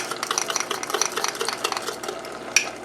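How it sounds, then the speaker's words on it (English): A utensil stirs a mixture in a pan for scalloped potatoes, making quick, rhythmic scraping strokes close by, with one sharper clink near the end. "we're going to just stir that in"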